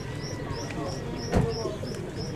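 Sport homing pigeons, lemon-coloured racing birds, coo in a steady series of soft calls under background chatter at a market, with a brief louder knock midway.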